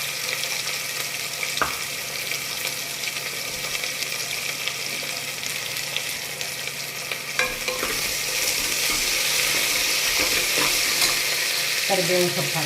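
Onions tipped into hot oil already crackling with mustard seeds sizzle steadily for a sambar tempering, with occasional scrapes and clinks of a stirring spoon in the pan and no talk.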